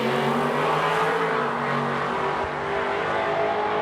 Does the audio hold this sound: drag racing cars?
yes